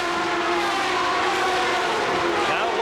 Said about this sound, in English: across the start-finish line come the race leaders